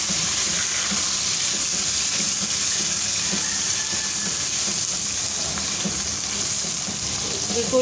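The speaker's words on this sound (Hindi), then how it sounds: "अब हम सबसे पहले इनको फ्राई करेंगे ऑयल में।" Bitter gourd sizzles steadily in hot oil, a constant crackling hiss that fills the whole stretch with no break.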